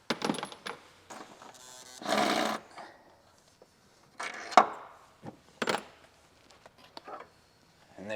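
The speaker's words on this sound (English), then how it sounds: "Pitch stop brace, it is a 14mm wrench or ratchet, whatever you want to use. I'm using a impact." A cordless impact wrench works a 14mm bolt on the pitch stop brace of a VB-generation Subaru WRX, delivering several short, loud rattling bursts separated by pauses, with clinks of metal between them.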